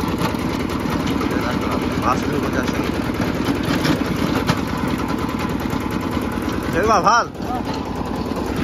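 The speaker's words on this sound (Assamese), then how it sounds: "মই এতিয়া ট্ৰেক্টৰটো লৈ গৈছোঁ" A tractor engine idles with a steady, low mechanical rumble while someone talks over it close by.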